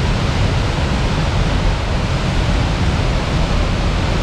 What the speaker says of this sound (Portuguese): A cachoeira tem uma formação muito curiosa, porque ela está dentro da lava de um vulcão.